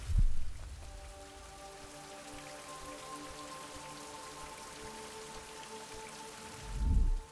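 Steady rain falling in the survival video game Fountain of Youth, a continuous soft patter that begins abruptly and holds evenly, with a low thump at the start and another near the end.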